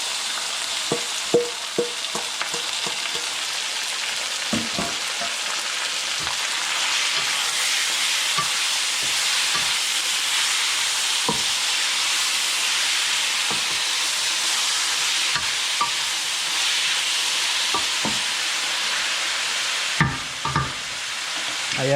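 Pork meat fries in a pan for pork igado, a loud continuous sizzle and hiss with occasional stirring clatters and scrapes throughout.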